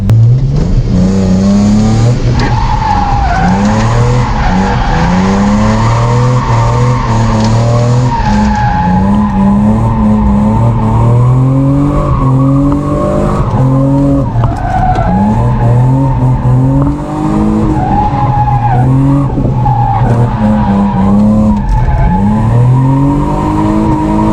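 A BMW E30 drifting at a drift event, its engine revving hard and wavering up and down in pitch while the tires squeal and skid continuously, loud and close with no talk.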